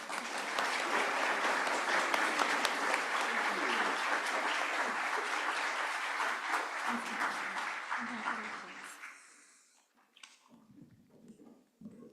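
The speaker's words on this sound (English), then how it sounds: "putting our hands together in appreciation of our new members" A congregation at a Universalist Sunday worship service applauds new members with a dense, sustained wash of clapping that fades out after about nine seconds, then a speaker begins talking.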